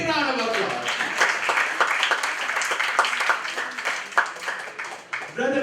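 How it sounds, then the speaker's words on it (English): A retreat audience gives a speaker a round of applause, moderately loud scattered clapping with distinct individual claps, opening and closing against a speaking voice. "give her a big round of applause"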